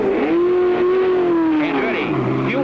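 A race car rejoins the track after a mid-race pit stop, its engine droning loudly and steadily before the pitch drops and climbs again as it accelerates, with a commentator talking over it.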